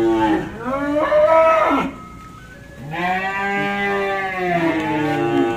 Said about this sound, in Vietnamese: Hai bò này là chủ nhà cho ăn nước nè.